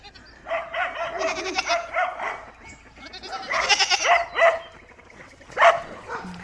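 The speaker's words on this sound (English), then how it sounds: "They like barking at the cows." Dogs bark at cows in short bursts and a goat bleats among them, with quieter stretches between, fairly close by.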